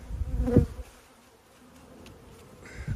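Honey bees hum around an open hive during a colony inspection, a steady close buzz with one brief louder pass near the start and quieter droning after it.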